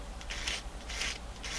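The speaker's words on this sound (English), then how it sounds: "we want to take a little bit of time and bevel all of those edges nice" An antler button is sanded to bevel its edges, giving three rhythmic, raspy rubbing strokes, close and fairly quiet, each lasting about a third of a second.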